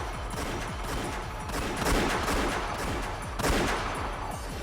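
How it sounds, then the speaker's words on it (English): Rapid bursts of gunfire in the visual novel game Umineko Chiru crackle in quick succession, dense and continuous with a couple of louder volleys. "As soon as I heard the sound of repeated gunfire"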